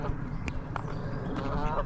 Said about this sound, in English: So these Canadian geese are noisy, always trumpeting, noisy buggers.